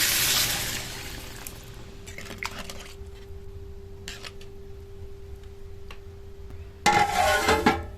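Water is poured into a cooking pot of sautéed vegetables for a thin village-style curry with green tomato, potato and fish: a brief splashing pour, a quiet stretch with faint clinks, then a louder burst of hissing splash.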